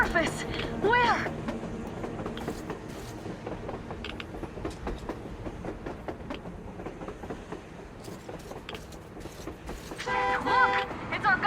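A train runs on the surface in the Metro Exodus game, rumbling and clattering along with a horn-like toot near the start and again near the end, while someone talks over it.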